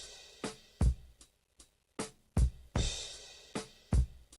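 Chopped drum break sample with reverb: irregular punchy kick and snare hits, each followed by a short reverberant tail, playing alone at moderate level.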